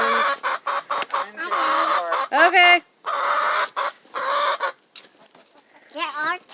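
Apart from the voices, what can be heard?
chickens clucking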